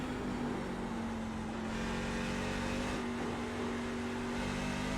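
Simulated race truck in the iRacing game running over a rough track surface and bottoming out, heard as a loud continuous engine drone with a steady pitched whine and rumbling thumps underneath.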